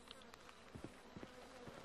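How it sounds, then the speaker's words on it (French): Insect buzzing from bees or flies in the video game GTA 5, faint and intermittent, with a few short soft thumps scattered through a quiet ambient background. "J'entends vraiment des abeilles."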